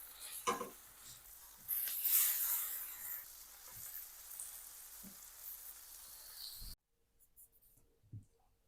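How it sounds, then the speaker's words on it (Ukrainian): Soft crackling sizzle of pork liver frying in a pan over medium heat, steady and close, with a few utensil scrapes, then it cuts to near silence. "І тепер обсмажую печінку з обох сторін до готовності. Смажу на середньому вогні."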